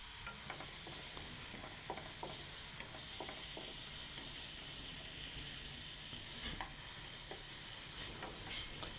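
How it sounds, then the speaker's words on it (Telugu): Tomato, green chili and garlic slices stirred in a pan while making macaroni, with a steady soft sizzle of frying beneath repeated scraping and clinking strokes of the spoon, close and moderate, no voices. "టమాటా, పచ్చిమిర్చి, వెల్లుల్లి స్లైసెస్గా కట్ చేసుకొని ఒక 2-3 పీసెస్ వేసుకొని బాగా కలుపుకొని"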